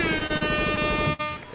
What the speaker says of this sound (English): Give us some horns, man.